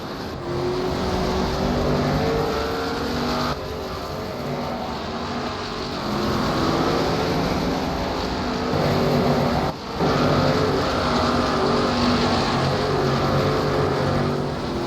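Late model stock cars race on the short track at Kingsport, a continuous roar of engines from the field sweeping past at a distance, loud and unbroken for the whole stretch.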